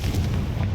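A Confringo fire spell explodes in the Hogwarts Legacy video game, a loud, dense booming blast filling the brief moment on its own.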